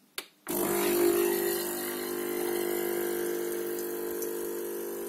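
Xiaomi Scishare capsule coffee machine starting up after a click, then a steady loud pump hum as it heats and pushes water through the capsule, droning evenly with slight shifts in pitch.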